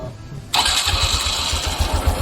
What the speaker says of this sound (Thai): ก็เดี๋ยวลองสตาร์ทดูนะครับ